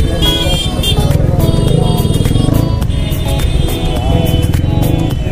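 Busy city road traffic is heard from a moving naked Apache 200 motorcycle: its engine drones close by while other engines, rattles and short horn beeps pass around it, and someone talks under the noise.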